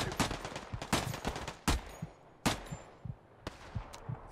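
Rapid gunfire crackles through a Hell Let Loose World War II battle at Foy, with sharp close shots and bursts of automatic fire separated by short gaps, loud and without talk.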